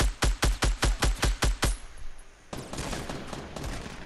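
Rapid burst of about eight loud, evenly spaced gunshots from a video game, followed by a softer, steady rumble of distant fire and ambient battle noise.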